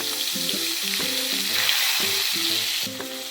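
Two large onions hit hot spiced oil for a capsicum chicken gravy, giving a loud, steady frying sizzle that runs throughout with no talking.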